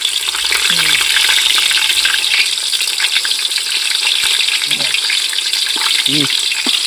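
Chopped onions and green chillies sizzle and fry steadily in a pan at an outdoor party in the fields, with a constant loud hiss and occasional stirring scrapes. Voices chatter briefly in the background.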